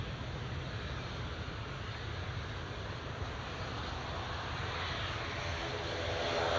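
A Ryanair Boeing 737-800 taxis toward runway 07 at Newcastle International Airport, a steady low engine rumble and whine heard from a distance, slowly growing a little louder, with no voices.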